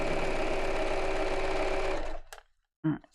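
Sewing machine stitches in a fast, steady whirr for about two seconds, then stops abruptly, leaving a few faint clicks and a short burst of voice near the end.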